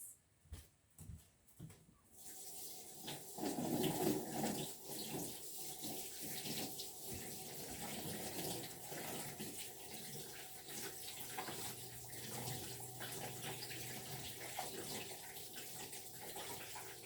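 Rice is rinsed under a running kitchen tap for risotto, with a steady close rush of water splashing into a bowl, preceded by a few brief knocks.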